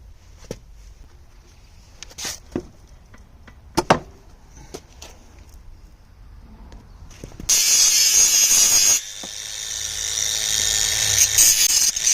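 A ratchet wrench loosens the blade bolt on a lawn mower with scattered close clicks, followed by a louder, steady mechanical whir in the second half.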